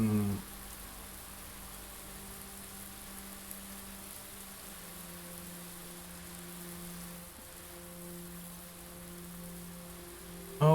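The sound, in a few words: water running like rain in greenhouse, Blue Prince video game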